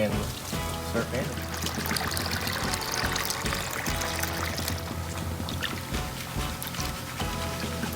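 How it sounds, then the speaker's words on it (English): Water poured and sloshed into a gold pan holding black sand at a California highbanking setup, splashing and trickling steadily while someone talks over it. "I'm gonna get some water in here and start panning."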